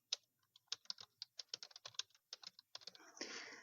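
A computer keyboard is typed on in a quick, irregular run of light clicks, close and fairly quiet, with a burst of louder rustling noise at the end and no voices.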